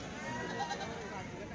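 Goats bleat faintly at a busy weekly goat market in Kadiri, with people talking close by over the animals.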